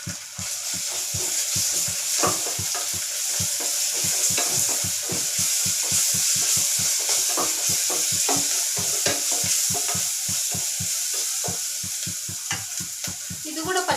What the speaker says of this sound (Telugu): ఇది కూడా పచ్చివాసన పోయేంత వరకు ఫ్రై అవ్వాలండి.